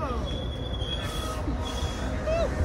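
A passing train pulled by Arlington Heights locomotives rumbles steadily nearby, with high wheel squeals and a brief horn-like tone, while people's voices are audible over it.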